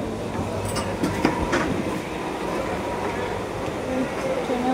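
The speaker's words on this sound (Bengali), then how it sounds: "আমাদের ট্রেন শিয়ালদা থেকে ছেড়ে দিয়েছে" A commuter train pulling out of Sealdah station bound for Namkhana, with a steady rumble and faint rail clatter throughout, occasional clicks and light background voices over the continuous noise.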